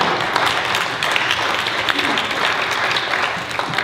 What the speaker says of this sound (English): I stand up and I clap.